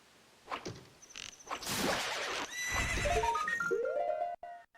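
A horse neighs loudly in a video game, a long rising and falling whinny with clip-clop hoofbeats and a whoosh, then a short snort near the end.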